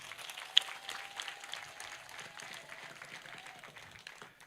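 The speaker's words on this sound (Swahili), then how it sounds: "Tumpigie makofi." An audience claps for a woman named Eunice at a gathering in Nyeri, a moderate, fairly distant patter of applause that stays steady for several seconds with a faint voice underneath.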